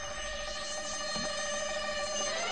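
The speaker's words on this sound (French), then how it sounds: "Quand elle ne bip pas, faut s'approcher en fait." A pink mine in Borderlands 2 gives off a steady electronic beeping, a bright, sustained ringing tone that repeats without a break against a quiet game background.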